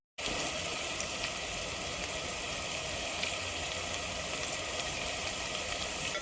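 Onions frying for pav bhaji, cooked until golden brown: a steady, close, even sizzle with faint stirring clicks, running continuously without pause or talking.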